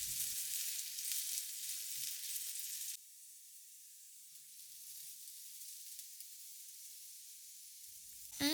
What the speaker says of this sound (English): Heat some oil in a pan and add the sliced potatoes and onions.